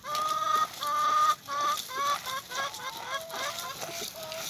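Several roosters crow one after another, their drawn-out calls overlapping and echoing back and forth, some loud and close, others further off.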